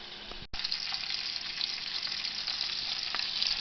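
Bacon frying in a pan for a pot of chili gives a steady, close, dense sizzle with crackling spits, briefly cut off near the start and then resuming loudly; no one speaks.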